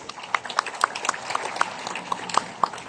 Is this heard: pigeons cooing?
no